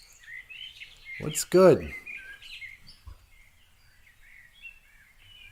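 Birds chirp and sing outdoors in quick, high, scattered calls throughout, with someone briefly speaking over them.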